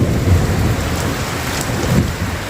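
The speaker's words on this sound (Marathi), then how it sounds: "इतकं वारं सुटलेलं आहे ना बाहेर" Steady heavy rain pours down with a constant roaring hiss, wind gusting through it, loud and continuous with no voices.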